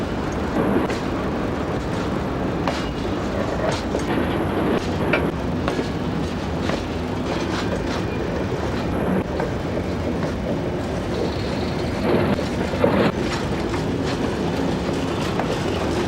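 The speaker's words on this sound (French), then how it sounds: "Attention au passage d'un train." A train passes through a station in France, a continuous loud rumble of wheels and carriages with rhythmic clacking over rail joints and occasional faint squeals, sustained for about sixteen seconds.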